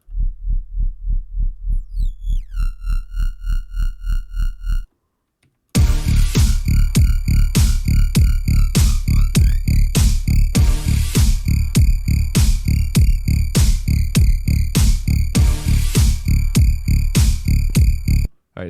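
Pulsing synth bass riff processed with Ableton's Redux downsampling, for a REZZ-style track made in Ableton 10 with Serum; steady loud repeating throbs, a brief gap near five seconds, then a denser gritty version with added high ringing tones.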